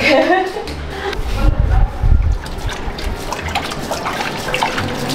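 Water poured onto potted plants, including a snake plant, in a small home mini garden; a loud splashing and trickling flow rises and falls for several seconds, with a person talking over it.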